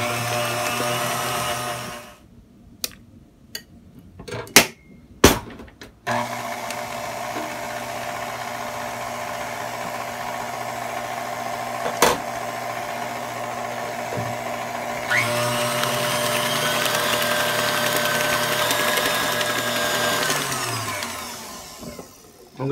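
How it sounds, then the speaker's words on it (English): An electric mixer steadily whirs as it beats eggs into sweet potato pie filling, with clunks as it starts, then a long even drone that rises in pitch and winds down at the end. "I'm going to beat it for another 30 seconds"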